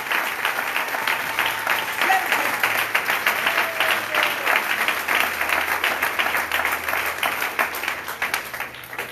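A church congregation at a praise and worship service claps and applauds continuously, a dense steady wash of many hands filling the room, with voices mixed in.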